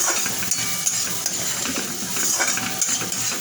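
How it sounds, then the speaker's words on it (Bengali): A fish curry base with cumin and ginger fries in oil in a pan, giving a soft, steady sizzle with light scrapes and clinks of a spoon stirring close by. "দেখুন ভালো করে ভাজা হয়ে যাচ্ছে, তেল ছাড়তে শুরু করেছে।"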